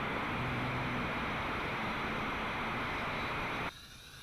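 A JJRC H8C camera drone coming in to land, its small motors giving a loud, steady buzzing whine that cuts off abruptly near the end, leaving a faint residual hiss.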